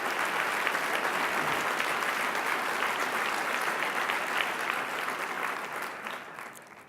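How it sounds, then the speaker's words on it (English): Thick, continuous audience applause fills a conference hall at a Clinton Global Initiative America gathering, holding steady and loud for several seconds before gradually fading out. "I think we owe them a big round of applause for that."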